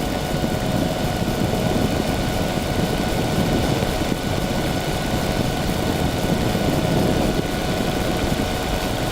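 A propeller tow plane's engine drones steadily as it tows a glider aloft, a continuous loud, even hum with no pauses and no voices.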